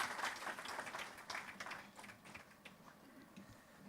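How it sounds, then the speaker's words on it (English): An audience applauds a guest speaker at a governance talk, a dense patter of many hands clapping, moderately distant and steady before gradually thinning out. "A round of applause for Mr. V. Srinivas."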